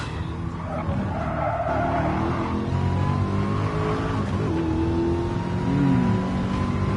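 A GT Sport race car engine drones steadily under tire squeal and skidding, with rising and falling pitch as it corners, loud and continuous throughout.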